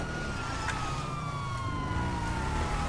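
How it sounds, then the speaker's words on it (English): Police car sirens wail steadily in GTA 5 Online, a continuous loud sliding tone that holds throughout with no voices. "Police cars are coming now."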